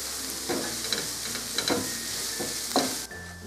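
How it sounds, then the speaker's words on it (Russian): Finely chopped onions sizzle and crackle in vegetable oil in a frying pan, a dense continuous frying hiss with intermittent stirring scrapes, close and loud. "И обжариваю лук на растительном масле."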